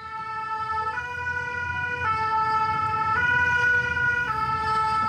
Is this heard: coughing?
no